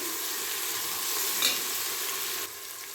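Chopped mint and coriander leaves frying in oil for ghee rice, a dense, even hiss of sizzling close by with a brief stirring scrape, and no one speaking.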